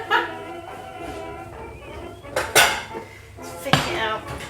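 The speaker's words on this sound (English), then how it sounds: "I dropped my spoon" A metal spoon drops into a pot of fabric dye during hand dyeing, giving several loud ringing clanks and clinks of metal against the pot with scraping and rattling in between.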